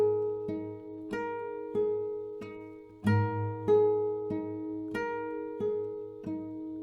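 An acoustic guitar plays a repeating fingerpicked pattern from a song, a bass note followed by plucked upper strings. The notes come in a steady, even rhythm and are close and clear, with no voice over them.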